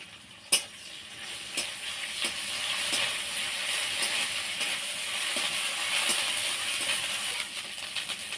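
Ginger garlic paste frying with onions in mustard oil: a steady close sizzle with sharp metallic clinks of a spoon against the pan at intervals, one loud knock near the start, no talking.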